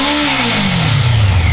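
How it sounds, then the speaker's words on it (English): A Honda Nighthawk 650 motorcycle fitted with a Supertrapp exhaust revs up loudly and close by, its engine note sweeping from a deep drone into a rising, throaty roar. "now here's a comparison of revving both the stock and the Supertrapp."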